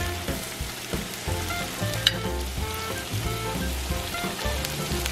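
Wontons deep frying in hot oil, four or five at a time: a dense, continuous crackling sizzle with rapid popping bubbles, steady and fairly loud throughout.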